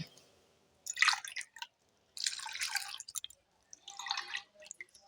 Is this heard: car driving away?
no